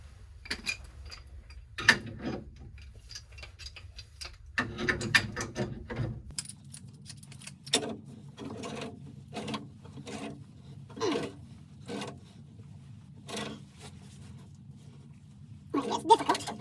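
A wrench tightening a gas fitting on a water heater regulator produces a series of sharp ratcheting clicks and metallic scrapes, with irregular pauses between turns, close and alone over a low background hum.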